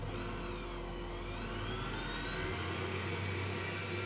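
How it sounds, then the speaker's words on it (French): A stand mixer running at low speed kneading burger bun dough with egg, a continuous motor whine with slowly shifting pitch, steady and fairly quiet, with no talking. "j'allume mon robot à petite vitesse"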